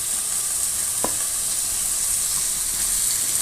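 Garlic fries with fennel seeds and onions in a pan, giving a constant close sizzle with one brief clink partway through.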